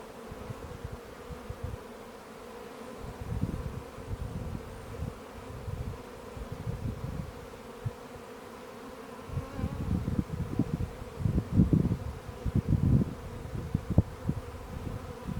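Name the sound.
honeybees buzzing around open hive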